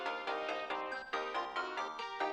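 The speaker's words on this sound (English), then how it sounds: "Man, this is ringing forever." A smartphone ringtone from the video game Steins;Gate 0 plays as a repeating melodic chime in quick regular pulses, steady and moderately faint, with no voices.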